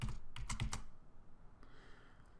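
Quick burst of about five keystrokes on a computer keyboard entering an Excel SUM formula, close and crisp, then a faint tap and quiet room.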